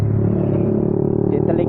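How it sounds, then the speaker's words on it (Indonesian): A stock-engine Honda CB motorcycle fitted with a 2RSK2 aftermarket exhaust idles and revs close by, a throaty, pulsing rumble with a speaking voice over it. "suara dari knalpot 2RSK2 ini udah mantep"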